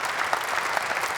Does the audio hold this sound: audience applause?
yes